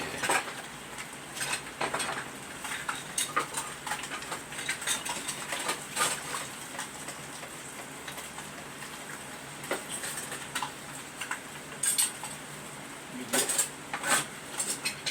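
Metal whisk clinking and rattling in a pot while making Alfredo sauce with cream, rapid irregular ticks and scrapes running steadily, close and fairly loud, with brief louder clatters.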